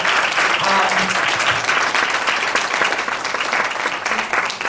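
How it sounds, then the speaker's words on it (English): An audience gives a sustained round of applause after a talk on the UN Decade of People of African Descent, dense and steady clapping throughout with faint voices mixed in. "let's please give a round of applause"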